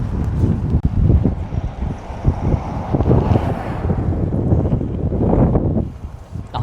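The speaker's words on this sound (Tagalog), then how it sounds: "Lakas ang hangin." Strong wind buffets the microphone while a fixed-gear bike is ridden uphill on a delivery run, a steady loud low roar that rises and falls without a break.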